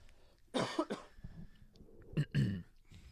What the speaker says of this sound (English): I just want to do a quick cough.